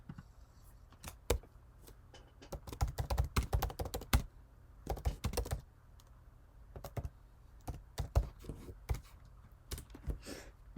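Text being typed on a computer keyboard while building a Book Creator page: bursts of quick, close key clicks with short pauses between runs, steady and fairly loud, no voices.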